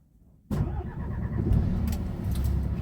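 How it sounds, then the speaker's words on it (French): After a moment of quiet, a truck engine turns over and catches, then settles into a steady, fairly loud idle nearby. "donc je vais pouvoir mettre le moteur en marche."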